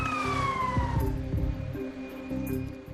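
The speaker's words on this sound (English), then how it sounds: "An ambulance and crew were dispatched" An ambulance siren wails with a falling tone that fades into a low rumble of traffic, moderately loud and alone without speech.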